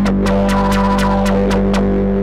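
VCV Rack software synth routed through a Russian-style vortex filter, aiming at a Polyvox character: a sustained droning tone with rhythmic pulsing sweeps about every quarter second, steady and loud.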